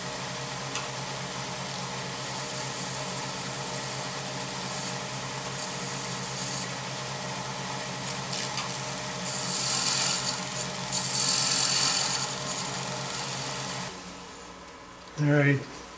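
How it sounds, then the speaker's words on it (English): Tool rubbing against the end of a spinning blackwood finial on a wood lathe, a continuous rasping, scraping drone with a steady machine hum beneath and a couple of brief brighter swells near the end. "A little bit of shaping on the very end of my finial."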